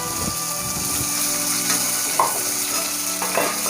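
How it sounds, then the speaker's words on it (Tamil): Small onions sizzle steadily in hot oil in a pan while being stirred, with a few scraping stir sounds over continuous close frying for a pepper chicken dish. "போட்டு அந்த எண்ணெயில் போட்டு நல்லா வதக்கிக்கணும்."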